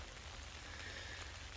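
Gentle, steady rain falls on a hammock canopy outdoors on a cold night, making a soft, continuous patter that is quiet and even throughout, with no voices.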